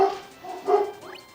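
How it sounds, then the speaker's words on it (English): A few dog barks from a distance, two short bursts a moment apart followed by a faint whine, over quiet background. "And there are my dogs again."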